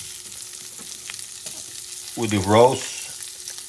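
Marinated vegetables such as celery and leftover potatoes are dropped into a hot cast iron pan over medium heat, giving one brief loud crackling sizzle against a low background hiss, with a voice barely heard.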